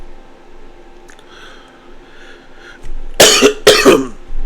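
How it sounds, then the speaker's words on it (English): Two harsh, close coughs from a person getting over a cold, in quick succession, loud against a quiet background with faint murmuring before them. "Sorry for my coughing."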